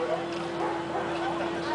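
A hunting dog, a Picardy spaniel or springer, barks during a field demonstration at Carrouges, its yelps rising over steady talk and a constant low hum.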